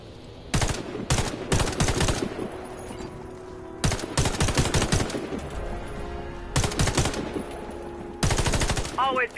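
Rapid bursts of automatic gunfire aimed at a target in the Warface shooter game, several loud clustered volleys separated by short pauses, with a brief sweeping electronic tone at the end.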